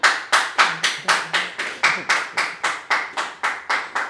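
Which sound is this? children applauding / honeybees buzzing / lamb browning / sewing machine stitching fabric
children applauding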